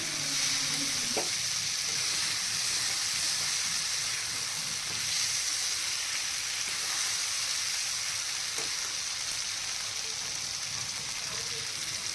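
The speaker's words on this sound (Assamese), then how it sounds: "এইখিনি ভালদৰে মই অকণমান তেলতে ভাজি লাহেকৈ পানী অলপ দি দিম" Bay leaves, cloves and cardamom fry in a little hot oil for a chicken curry, giving a steady, close sizzle with faint stirring clicks throughout and no talking.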